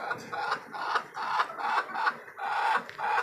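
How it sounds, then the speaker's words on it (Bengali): Desi hens and tiger roosters kept in cages on a rooftop farm cluck in a quick, repeating series of short nasal calls, close by and steady, with no one talking. "দুইটা টাইগার মোরগ আছে"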